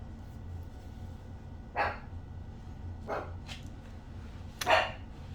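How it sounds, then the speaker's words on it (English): A puppy barks a few times in the background, three short, muffled yaps spaced about a second apart over a quiet indoor room, the last one slightly louder. "That's my puppy in the background."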